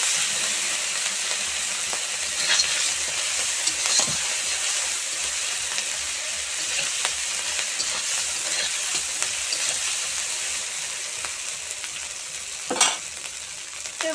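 Spice paste with turmeric being sautéed in a pan for a village-style cabbage curry hisses with a steady bright sizzle for a long stretch, punctuated by occasional spatula scrapes and taps, close and without speech.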